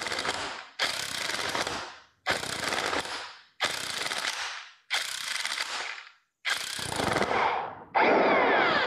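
An impact gun drives a hydraulic puller to remove a pinion bearing, firing in about seven loud, sustained rattling bursts separated by short pauses, with no voices.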